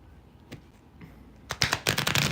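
A deck of tarot cards is riffled and shuffled, quiet taps at first, then a loud rapid flurry of crisp flicks near the end.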